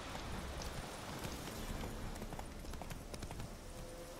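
Horse hooves gallop in a steady clip-clop rhythm through the Witcher 3 video game, a continuous mid-level patter of hoofbeats running the whole stretch without talk.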